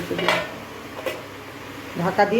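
A lid goes onto a pan of cooking bottle gourd, heard as a couple of quick metallic clanks and a rattle near the end, close and fairly loud, mixed with light kitchen clatter.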